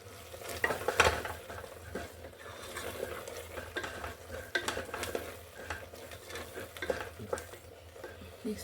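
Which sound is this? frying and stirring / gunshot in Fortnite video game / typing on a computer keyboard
frying and stirring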